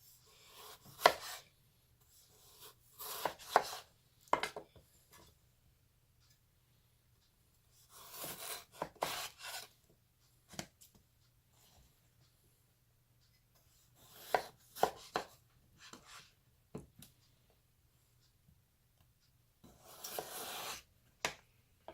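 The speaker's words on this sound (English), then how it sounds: "let's cut this potato" A knife slices a potato into roughly quarter-inch slices and then cubes, heard as several separate bursts of close, crisp cutting and scraping on a board, with quiet gaps between them.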